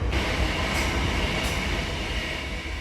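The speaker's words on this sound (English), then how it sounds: "Oh, hang on, there's a fast train." A fast train rushes through a station, a loud steady roar of wheels and air filling the whole stretch with no break.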